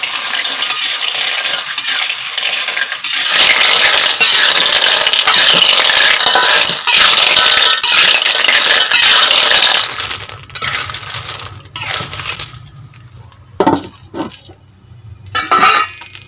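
Rice-field snails being stirred in a cooking pan, with a dense, steady rattle and sizzle for several seconds that gives way to sparse, sharp clinks and scrapes near the end.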